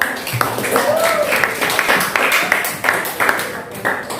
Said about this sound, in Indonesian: tepuk tangan buat Haura